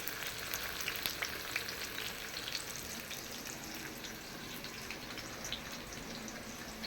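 Masala for mutton biryani fries in a pan with a steady, close crackling sizzle that runs without a break, with occasional faint stirring.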